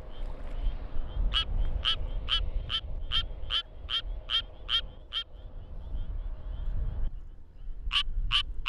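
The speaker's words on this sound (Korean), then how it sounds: "드디어 수원 청개구리의 노래가 시작됐다." A Suwon tree frog calls outdoors, giving a run of about ten evenly spaced, quacking notes. After a short pause it gives a few more, over a low background rumble.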